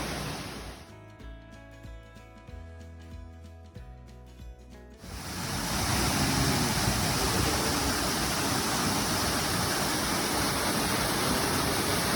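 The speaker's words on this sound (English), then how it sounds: "Eagle Cliff Falls." Eagle Cliff Falls, a Finger Lakes waterfall spilling over ledge rock, roars in a steady, loud, broadband rush of falling water that swells in after about five seconds of a different, quieter sound and then holds constant.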